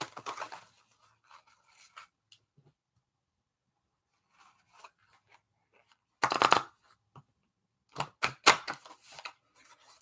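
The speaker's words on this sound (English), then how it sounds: "I'm going to shuffle the deck," A deck of cards is shuffled in quick papery riffles and flutters, a few scattered bursts separated by near-silent pauses, fairly close and with no talking over them.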